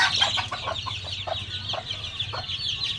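A few newly hatched chicks cheep close by in a run of quick, high, repeated peeps. Faint low hen clucks sound in the background, and no one speaks.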